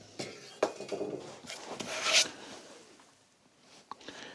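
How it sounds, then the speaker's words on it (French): A small piece of maple wood is hand-sawn, giving short close rasping strokes of a blade with a few knocks, quiet and without speech. "Pour commencer, il va scier un petit morceau."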